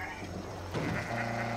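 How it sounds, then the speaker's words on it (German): A goat in the video game Ghost Recon Breakpoint gives a short bleat, rising briefly out of a steady game ambience before a sustained tone fills the final half second. "Blöde Ziege. Leckt an einem Stein."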